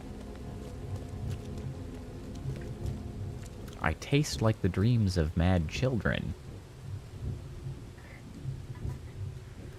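Rain and low rumbling in the video game The Sinking City, a continuous soft downpour under a person talking midway through, with the steady wash carrying on before and after the speech.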